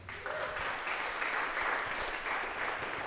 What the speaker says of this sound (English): Please, how about a round of applause for Ken?